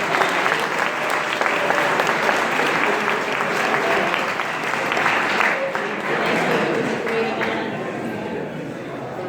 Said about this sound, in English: I think we need to applaud Sandy and Ron for the lovely meal that they made for us